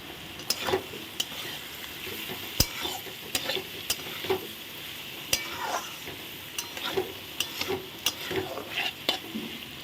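Soft continuous sizzle of potatoes for aloor dum frying in a pan, punctuated by regular sharp scrapes and taps of a utensil stirring, close up.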